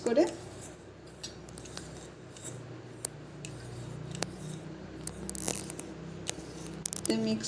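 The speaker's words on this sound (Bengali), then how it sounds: "200 গ্রাম বেসন নিয়েছি, আর এর মধ্যে 100 গ্রাম আমি চালের গুঁড়ি দেব। দুটো দিয়ে আমি ভালো করে মিক্স করব।" Gram flour and rice flour get stirred together in a bowl with a spoon, making faint scraping and light clinking ticks against a quiet background.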